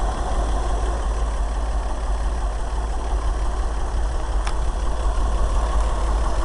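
A 1965 International R185 truck with cast iron headers and a split manifold idles after a cold start, a steady, loud, low engine rumble that stays constant throughout with no voices.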